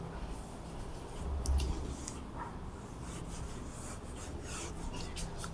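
An eraser rubs out writing on paper in quick scrubbing strokes, close and fairly quiet, with short bursts of friction against a faint steady background, no voices.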